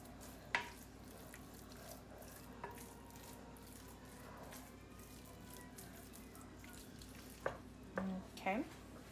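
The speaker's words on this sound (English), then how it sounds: "Go ahead and grab a spoon, kind of break it up a little bit." Lasagna filling being broken up with a spoon in a pan over a faint, steady sizzle, with a few soft scrapes and taps scattered through.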